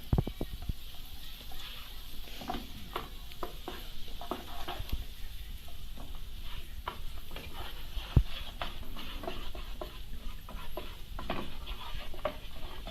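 Butter melting in a frying pan over low heat before French toast goes in, a soft continuous crackle and sizzle with scattered small pops, close but fairly quiet, with a couple of faint clicks of pan or utensil.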